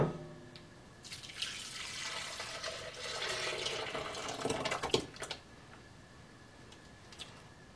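Homemade oat milk pours through a straining bag into a container, giving a soft, steady liquid trickle and splash that swells in the middle and tapers off, faint and close.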